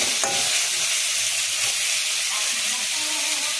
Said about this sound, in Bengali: পেঁয়াজটা ভাজা হয়ে গেছে, লাল লাল করে ভেজে নিয়েছি, এবং টমেটোটা দিয়ে দিচ্ছি।